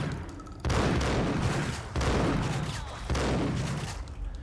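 Gunfire in the shooter game Max Payne, three loud bursts of rapid shots, each lasting over a second and separated by brief gaps.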